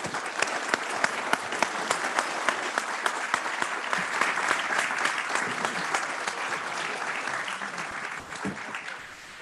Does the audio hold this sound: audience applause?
yes